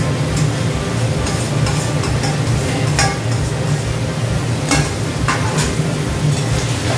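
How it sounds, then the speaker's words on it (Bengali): Mashed boiled potatoes being stirred into a sizzling potato curry in a pan for a sweet-shop style aloo torkari, with a steady frying hiss, spoon scraping and occasional clinks against the pan. "সেদ্ধ করা আলুগুলো দিয়ে দেবো, সেদ্ধ করে ম্যাশ করে রেখেছিলাম।"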